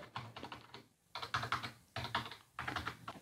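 Keys clatter on an HP Wireless Keyboard 300 in three quick close bursts of soft, smooth presses separated by brief pauses, with no voices.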